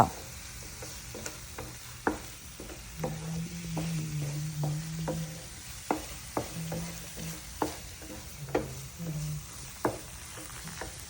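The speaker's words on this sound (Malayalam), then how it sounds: "എന്നിട്ട് നന്നായി ഇളക്കി യോജിപ്പിക്കുക." Chili powder is stirred into a frying onion mixture for paneer masala, a soft steady sizzle in a pan broken by regular scraping taps of a spoon, quiet and close, with no talking.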